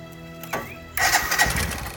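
A motorcycle engine cranks briefly, then catches and fires up into a loud, close rumble that carries on to the end.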